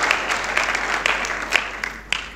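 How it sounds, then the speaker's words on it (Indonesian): A church congregation at a Pesakh service applauds in a steady, moderately loud patter, with a few sharper individual claps standing out in the room before the clapping thins toward the end. "Haleluya, boleh beri tepuk tangan."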